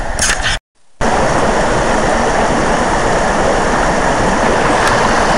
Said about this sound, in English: enjoy the sounds of the river